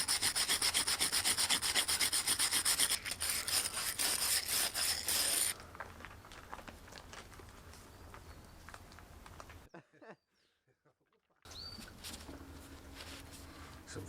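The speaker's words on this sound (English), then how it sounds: "I'm going to give it a little wire brush and then some brake cleaner treatment." A wire brush scrubs a rusty van rear axle part in rapid, loud, close strokes. The scraping then softens to lighter brushing, with a short silent gap before it resumes.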